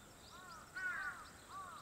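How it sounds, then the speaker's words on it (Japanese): A crow caws outdoors, two or three harsh calls rising and falling over a faint steady background hiss, moderately distant and not loud. "鳥さんが鳴いてます。"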